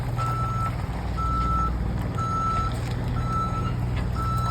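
A semi truck reverses nearby at a truck stop, its reversing alarm sounding steady evenly spaced beeps over a loud, constant diesel engine rumble.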